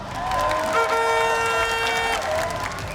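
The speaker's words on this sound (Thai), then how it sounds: "สะใจแค่ไหนปรบมือดัง ๆ แค่นั้นพอครับ" A Muay Thai fight crowd applauding steadily for a few seconds, with cheering mixed in and a sustained musical tone running underneath.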